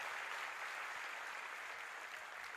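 Applause from a large audience at a live religious gathering led by Bageshwar Dham Sarkar, a steady broad wash of clapping filling the whole moment with no pause.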